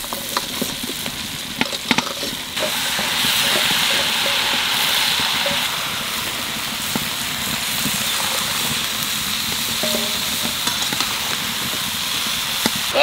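Vegetables and spices, including chilli powder, sizzle and fry in a pan, making a steady hiss and crackle with scattered clicks and scrapes from stirring and no voices.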